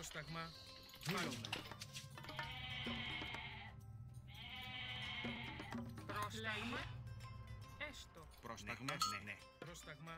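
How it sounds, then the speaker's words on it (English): Goats bleating in the strategy game Age of Mythology, several drawn-out bleats at moderate volume among clicking game effects, with someone talking over them. "Oh, goats aplenty."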